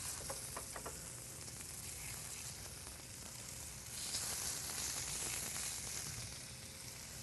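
Turkey medallion searing in warm olive oil in a pan, a steady close sizzle and hiss running throughout with a brief louder swell partway, no talking.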